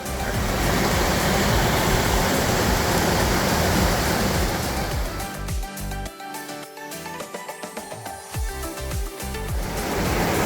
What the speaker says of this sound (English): lots of thundering water behind me